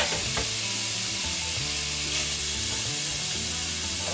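Bacon and chopped onions fry steadily in a pan, a continuous close sizzle with occasional stirring scrapes and clatter throughout.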